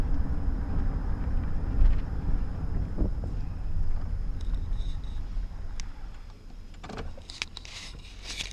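Strong wind buffets the microphone with a heavy, continuous low rumble, joined later by faint rattles and a few higher whines.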